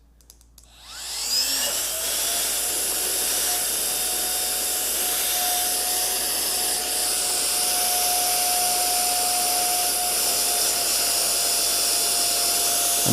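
A FLEXTAIL Max Pump 3 switches on after about a second and sucks air from a vacuum bag, giving a steady, loud, close whine with a high motor tone that holds for the rest of the clip, with no talk.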